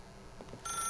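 A telephone rings in the video game The Stanley Parable, with a brief electronic ring starting abruptly near the end of a very short, quiet moment.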